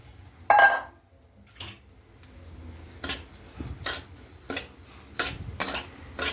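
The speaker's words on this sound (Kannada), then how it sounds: "ಬಿಸಿಯಾಗಿದೆ, ರವೆ ಹಾಕ್ಕೊಂಡು ಹುರ್ಕೊಳ್ಳಿ." Semolina roasting in a spoonful of oil in a pan while a utensil scrapes and clinks against the metal in irregular bursts, close and fairly loud, with no talking.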